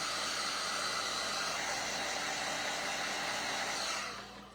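A hair dryer blows steadily on a scrap wood craft, a loud, constant rushing hum that holds for about four seconds and then fades as it is switched off.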